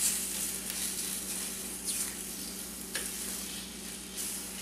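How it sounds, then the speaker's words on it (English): Apples for strudel simmer in a pan with a continuous soft sizzle and bubbling, with a few light stirring scrapes, close and alone. "We're just going to let these simmer and cook for a few minutes"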